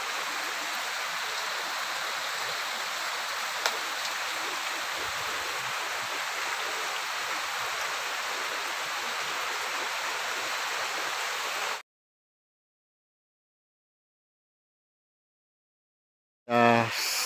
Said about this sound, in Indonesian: Pastinya masih hujan teman-teman